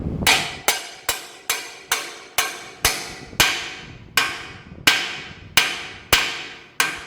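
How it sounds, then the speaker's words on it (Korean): Hammer blows driving a bearing into a spinning bike crank assembly, about a dozen sharp metallic strikes with ringing decay, spaced evenly and close, no talking. "안에 넣고 망치질을 또 해줄 거예요. 자, 소리를 들어보시면은 탕 하는 소리가 날 거예요."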